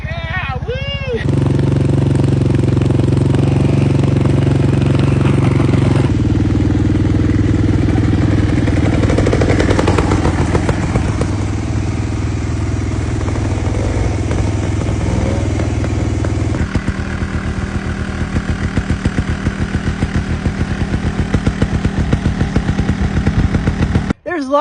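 Several off-road motorbikes riding out on a trail in a Washington State valley, engines droning loudly and steadily throughout with shifting pitch as they rev and change gear.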